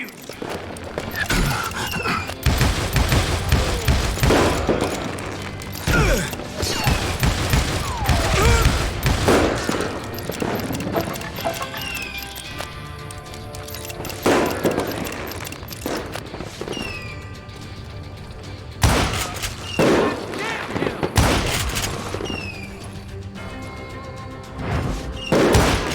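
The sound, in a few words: gunfire in Call of Juarez Gunslinger video game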